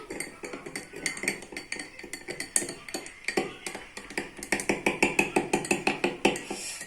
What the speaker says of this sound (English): After putting it into the bowl of milk, you have to stir it nicely.